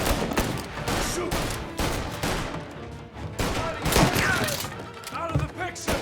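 Chaotic shootout in the video game Mafia: Definitive Edition, with repeated gunshots and bursts of fire mixed with thuds, while voices shout over the fighting.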